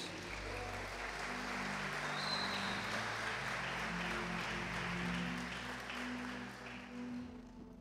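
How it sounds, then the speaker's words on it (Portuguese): A church congregation applauds in thanks to God for a young man's life, a broad, continuous roar of clapping that holds steady before tapering off, with faint background music underneath. "Quantos podem dar um aplauso a Deus pela vida do Lucas?"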